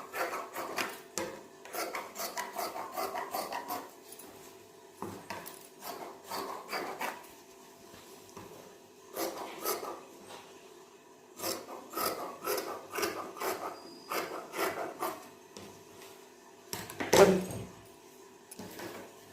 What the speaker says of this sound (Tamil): அடுத்து பட்டி கட் பண்ண போகிறோம்.